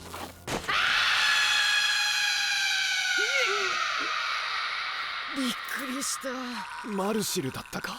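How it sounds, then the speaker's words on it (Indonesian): A mandrake root in the anime Dungeon Meshi gives a piercing, sustained high-pitched scream for several seconds, then breaks into warbling, wailing cries that rise and fall before trailing off. "si mandrake sialan ini malah teriak-teriak"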